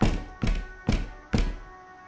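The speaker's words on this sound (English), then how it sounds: "The door receives a thorough disciplining" Four heavy, evenly spaced thuds of a boot kicking a sturdy wooden door in the video game Disco Elysium, each blow loud and close with a short ringing decay.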